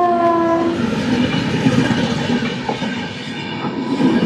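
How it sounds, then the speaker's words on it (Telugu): A train passing close while overtaking the Visakha Express, with a loud horn blast at the start followed by rumbling wheels and rhythmic clickety-clack over the rails. "విశాఖ ఎక్స్ప్రెస్ని ఏదో ట్రైన్ అయితే ఓవర్టేక్ చేస్తుంది"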